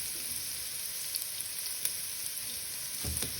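Ginger frying in oil for chicken tinola and adobo, a faint, steady sizzle with a few small pops and a brief stir-like clatter near the end.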